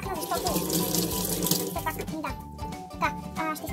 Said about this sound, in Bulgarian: Ето е лъжичката, която аз ще изплакна